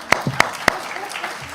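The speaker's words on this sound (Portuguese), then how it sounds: "Uma salva de palmas para quem votou 15." A conference audience gives a few sharp, separate claps in a quick sequence, followed by a faint, scattered patter of hands and quiet room noise.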